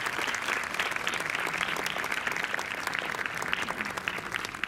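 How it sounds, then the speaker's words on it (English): Steady, dense audience applause at an 18th anniversary program held at a hospital, loud and continuous throughout with no pauses. "A big round of applause for them."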